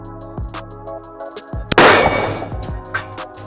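A single sharp H&K USP45 pistol shot rings off a steel target at 25 yards, the crack followed by a bright, decaying metallic clang outdoors with no talking.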